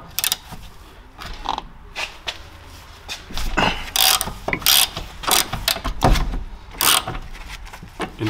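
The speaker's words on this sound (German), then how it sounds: "Und wir öffnen die Mutter." Ratchet with a 19 mm socket loosening the tie rod end nut on an Audi A3 8L, heard close as irregular bursts of clicking pawl strokes with short pauses between turns, fairly loud against a faint background.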